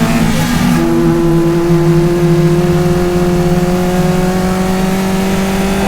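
Caterham Roadsport race cars at Croft Circuit, engines droning loudly with steady high tones and a rising pitch as a car approaches and passes close by, several cars blending into a continuous roar.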